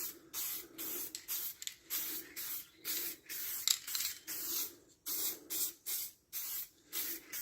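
An aerosol spray paint can dusts a light coat onto a car interior part, giving a series of short, close hissing bursts separated by brief pauses.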